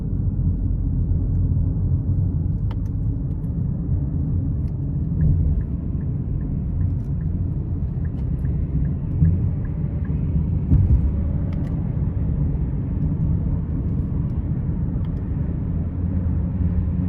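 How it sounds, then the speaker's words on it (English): Inside a 2024 Nissan Rogue S accelerating onto the interstate, a steady low engine and road rumble fills the cabin, holding even without clear surges, with faint ticking clicks and no talk. "I'm gonna try and give it some gas getting on the interstate here."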